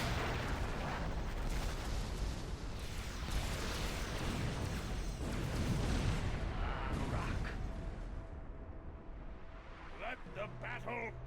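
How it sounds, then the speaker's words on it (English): Deep rumbling booms and bursts from the Star Trek Armada 3 video game roll on continuously, dense and muffled, like a barrage of distant explosions, easing off toward the end. "Oh, the glorious explosions."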